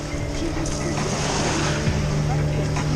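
An excursion boat's motor drones steadily on Lake Baikal at Listvyanka, a continuous near hum mixed with wind and water noise while someone talks.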